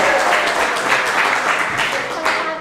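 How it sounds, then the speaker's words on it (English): A crowd at a gala applauds steadily for a few seconds, a dense wash of clapping with cheering voices mixed in. "Let's give them a round of applause"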